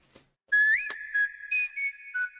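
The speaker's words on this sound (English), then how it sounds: "There's the whistle that they were talking about." A bright whistled melody line in a K-pop song rises, slides and holds across several short phrases over the track, close and clear with no singing over it.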